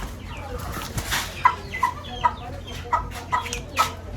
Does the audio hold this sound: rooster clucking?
yes